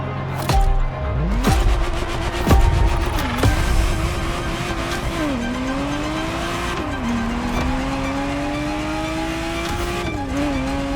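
A Ferrari Testarossa driven in The Crew Motorfest racing game, its engine revving loud and close through repeated gear shifts as the pitch climbs and drops, with brief tire squeals and knocks early on.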